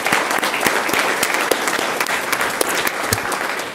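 Dense, loud audience applause fills a school district governing board meeting, a continuous wash of many hands clapping at once with sharper individual claps popping out, steady from start to finish.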